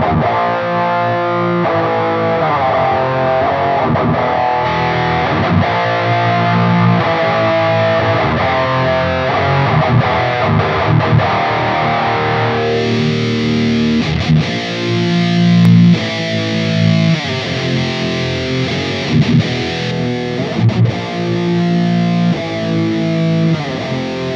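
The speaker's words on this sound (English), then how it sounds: "a digital clipping noisy pedal like this" An electric guitar plays through a DigiTech Metal Master pedal's harsh, fuzzy digital distortion, chords and riffs buzzing loudly with a gritty, clipped edge throughout.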